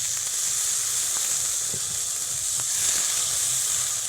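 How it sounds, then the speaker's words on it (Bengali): Spice paste with Kashmiri chili sizzles steadily in a pan after a little water goes in, a constant bright hiss with faint crackles and no talking. "অল্প করে জল দিয়ে দেব জলটা দিলে মশলাটা কষানো খুব ভালো হয়"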